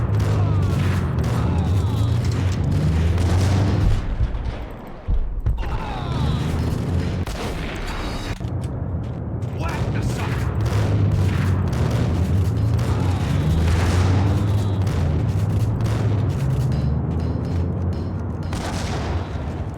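A grenade explosion in the video game Max Payne brings heavy booming blasts and rumbling gunfire that fill the whole stretch, loud and sustained, with a brief dip partway through.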